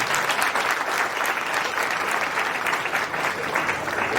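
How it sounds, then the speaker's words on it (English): A school annual day crowd gives a big, sustained round of applause welcoming the chief guest, dense and even clapping filling the hall without a break. "Ladies and gentlemen, with a big round of applause please."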